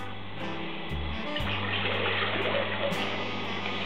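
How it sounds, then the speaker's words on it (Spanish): Water pours into a cooking pot for a homemade-candle double boiler, a steady rushing hiss that runs continuously and fairly loud with no talk over it. "Necesitamos nuestra olla y le vertimos agua."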